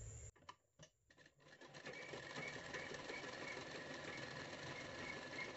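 Sewing machine stitching along a folded fabric strip 3 inches wide, starting with a few short stop-start bursts, then running as a steady, continuous whirring stitch close by with no talk.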